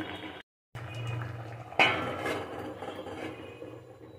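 A lid goes onto a cooking pot of drumsticks, bitter gourd, potato and bean seeds, a single close metallic clink followed by a fading ring over quiet kitchen background.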